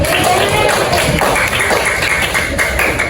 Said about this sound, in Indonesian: Beri tepuk tangan untuk kita semua.